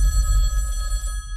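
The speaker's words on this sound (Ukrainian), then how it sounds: "Спершу задзвонить отой телефон" A telephone rings with a bright sustained metallic bell tone in a film trailer scene, loud and close over a low rumbling music bed.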